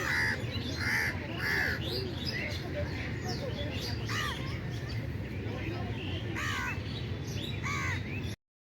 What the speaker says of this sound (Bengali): কি সুন্দর লাগছে না চারিদিক থেকে পাখির আওয়াজ?